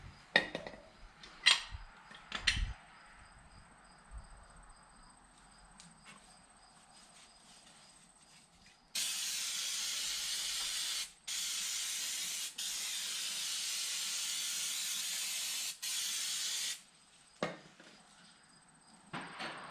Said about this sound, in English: You can use brake clean.